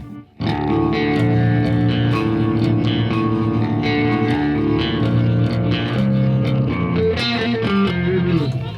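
Distorted electric guitar with heavy effects through a looper pedal on a Tone Master Pro, the sustained tone breaking into glitchy, stuttering fragments toward the end.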